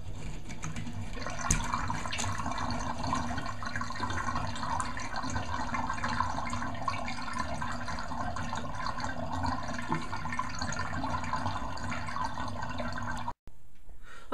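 Water drains from a freshly unclogged but still slow bathroom sink with a steady gurgling trickle and small drips, fairly close and continuous with no talk, then cutting off abruptly near the end.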